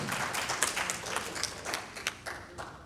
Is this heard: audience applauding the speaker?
yes